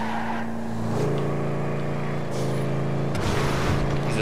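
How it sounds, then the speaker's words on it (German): Engine and turbocharger noise from a car in the video game GTA V, a steady loud drone with hissing, the engine note shifting as the car drives, no talk. "Ihr hört sogar den Turbo im Hintergrund,"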